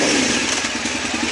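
A motorcycle engine runs loud and near with a steady, throbbing pulse for a short stretch. No voices are heard over it.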